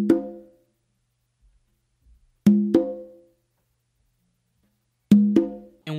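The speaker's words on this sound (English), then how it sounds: "you're going to do an open on your tumba." Open tones on a tumba and conga close a samba pattern, struck in quick pairs that ring and decay, repeated three times with pauses between and no voices.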